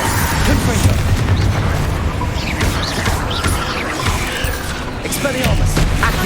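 Spell-casting explosions in the Hogwarts Legacy video game burst continuously, a dense barrage of booms and crackling pops layered over busy combat effects, loud and sustained throughout.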